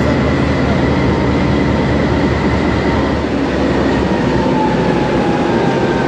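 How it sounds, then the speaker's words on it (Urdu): The Jaffar Express, a Peshawar-to-Quetta passenger train, rumbles past steadily and loudly at close range, with a continuous roar of wheels and carriages and a faint high whine from the rails, no voices present. "فورٹی ڈاؤن جعفر ایکسپریس پشاور سے کوئٹہ چلنے والی ٹرین اور عید والے دن آج رواں دواں ہیں"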